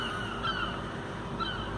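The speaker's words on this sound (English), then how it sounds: "All you hear is the shrieking of the seagulls." Seagulls shriek in harsh, repeated calls over a steady outdoor background hum, a few louder cries standing out briefly.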